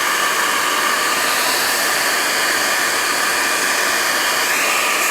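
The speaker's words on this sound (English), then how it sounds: "Let me get a hairdryer." A hair dryer blows close and loud, a steady unbroken rush of airy noise throughout.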